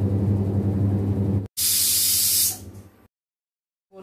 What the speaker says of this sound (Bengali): এই দেখো আমার কুকার সিটি দিচ্ছি।